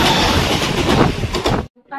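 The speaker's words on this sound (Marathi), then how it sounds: "ही आपली ट्रेन आहे, चालली आहे." A local train rumbles past at Thane station, a loud close-up roar with rattling clatter that cuts off abruptly near the end.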